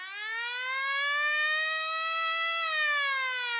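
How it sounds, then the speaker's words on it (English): A loud electronic siren sound effect wails alone, one smooth rising and falling tone holding steady for several seconds, used as the closing cue of a hockey card podcast. "And there's the siren to end our podcast."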